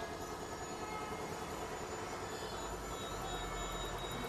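Steady, loud roadside traffic noise with a continuous broadband rumble of passing engines, no voices, growing slightly heavier toward the end.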